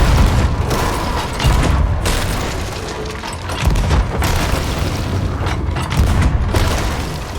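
Ship cannons boom in a Sea of Thieves naval fight, loud heavy blasts and rumbling impacts rolling continuously with thick ambient sea battle noise.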